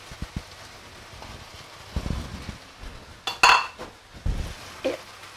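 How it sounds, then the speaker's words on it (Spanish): Soybean sprouts tumble into a hot pan of stir-fried chicken, a brief bright rustling splash followed by clinking of a utensil against the pan and faint sizzling, close and alone. "ahora le vamos a echar la soja germinada"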